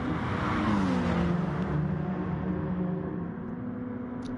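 A Peugeot RCZ in the Gran Turismo Sport racing game holds a sustained engine note that sweeps downward, loud at first and then easing lower as the revs fall, with no voices.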